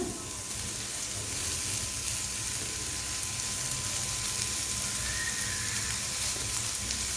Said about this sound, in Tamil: இது நல்லா இந்த பட்டரில் நல்லா வதக்கிக்கலாம்